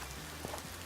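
Steady rain falling in a mountain area in the Alaska Gold Fever game: a dense, even hiss of rain on surfaces, brief and continuous with no voices.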